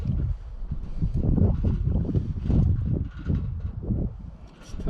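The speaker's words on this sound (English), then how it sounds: "Wind is terrible." Strong outdoor wind buffets the microphone in heavy, uneven gusts, a continuous loud rumble with no voices.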